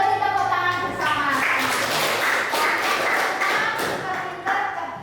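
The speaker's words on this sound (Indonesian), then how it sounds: "Kita beri tepuk tangan bersama." A classroom of pupils claps together in a lesson, a dense burst of hand claps and taps that runs steadily for several seconds, fairly loud, with a few voices mixed in.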